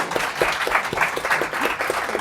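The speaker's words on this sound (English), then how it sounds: "Please give them applause." Brief scattered clapping from a small audience thanking a panel at a hacking event, uneven individual claps, moderately close.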